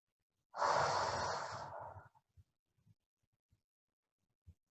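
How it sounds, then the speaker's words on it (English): During yoga practice, a long, deep exhale is heard close up, fading out gradually, followed by a few faint, soft breath and movement sounds. "One more deep breath here at your own pace."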